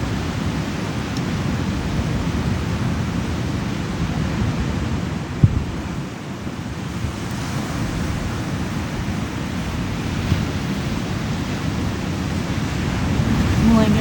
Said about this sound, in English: Taking the ocean sounds.